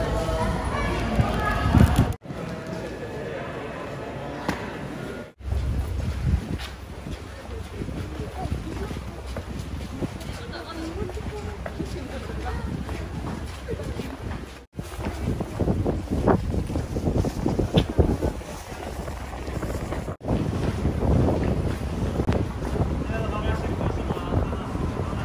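A ferry crossing to and from Miyajima Island in Hiroshima, with strong wind buffeting the microphone over a low engine and water rumble throughout, broken by a few abrupt cuts, with voices faintly in the background.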